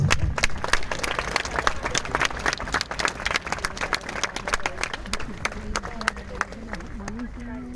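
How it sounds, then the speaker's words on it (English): Parents, guests and children at a school sports day applaud in a dense, steady burst of clapping that carries on throughout, with a voice briefly audible near the end. "I request all the parents, guests, children to please give a big round of applause."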